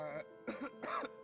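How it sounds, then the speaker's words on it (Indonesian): Three short, rough coughs in quick succession from one person, close and moderately loud, with a throaty, voiced quality. "Sorry agak batuk."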